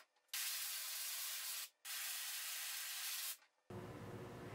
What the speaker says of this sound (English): You want to spray it until you can see that all that green emulsion is gone and pushed through the screen